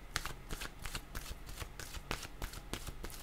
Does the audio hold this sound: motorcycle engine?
no